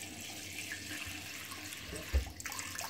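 Tap water runs steadily into a sink to cool cooked rice for sweet zarda, with a brief louder splash near the end.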